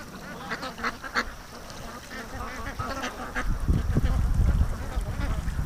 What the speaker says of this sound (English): And look at the ducks are coming back.